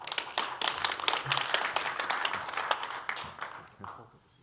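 Audience applause for panelists and speakers at a policy forum on Asia's rice market and food security, dense clapping from a room of people that tapers off toward the end, with some voices mixed in.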